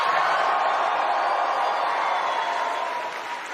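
A conference crowd of about 7,000 people makes a steady, loud wall of cheering and whooping noise that fills the whole stretch and eases off slightly at the end.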